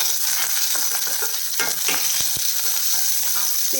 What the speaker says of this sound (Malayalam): ഇതൊന്ന് വഴറ്റിയേക്കാം